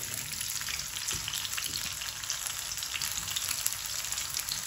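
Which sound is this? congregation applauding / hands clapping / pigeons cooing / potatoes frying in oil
potatoes frying in oil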